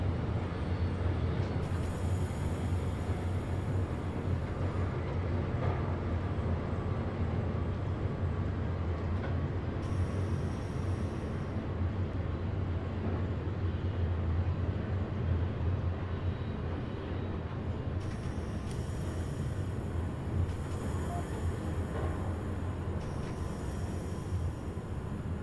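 An ICE 377 high-speed train in Train Simulator runs steadily for the whole stretch, producing a continuous dense rumble and rolling noise at constant loudness with no pauses.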